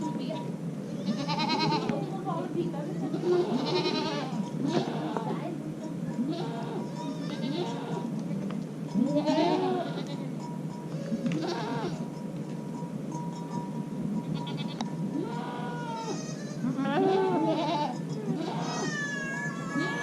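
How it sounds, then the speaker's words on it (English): Baby goats at a monastery bleat and cry for their mothers, repeated wavering calls from several kids close by, with people talking over them throughout. "The babies are crying for mom."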